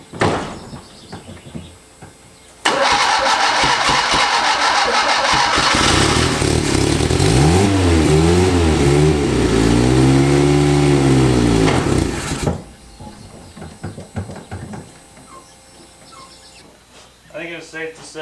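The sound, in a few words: abandoned Fiat engine starting for first time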